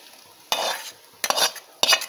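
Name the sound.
onion tempering sizzling, poured into pathrode curry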